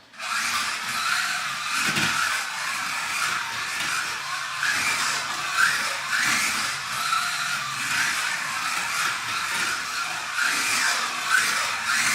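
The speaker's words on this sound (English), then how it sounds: "Now you're going to see this car right here, how real quiet it is." A quiet car drives past at the Monday Nights at Area 51 event, a steady broad road and tire rush lasting throughout with a few brief swells, no talk over it.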